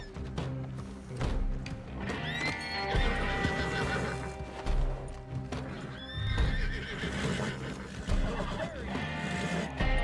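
A horse whinnies loudly in the video game Red Dead Online, and hooves clip-clop in a steady rhythm alongside other sounds in the background.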